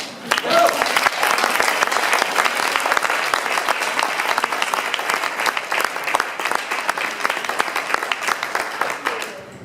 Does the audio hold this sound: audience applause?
yes